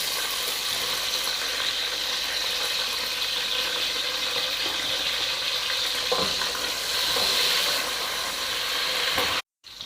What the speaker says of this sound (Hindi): हमने प्याज कटिंग कर ली है। अब ये गरम घी में हम अब इसको डाल देंगे।